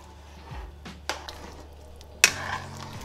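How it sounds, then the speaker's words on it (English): Pimento berries being stirred into a pot of Jamaican chicken foot soup, with a few soft scraping stirs and a sharper clink near the end against a low steady background hum. "Stir it in."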